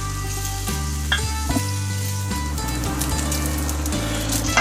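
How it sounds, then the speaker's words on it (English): A full pound of bacon sizzles and crackles in a pot over medium heat as its fat renders and it crisps, a loud, steady close-up hiss with occasional pops and no talking. "crisp up a full pound of bacon down in here, kind of over medium heat to render out the fat and get that bacon nice and crispy"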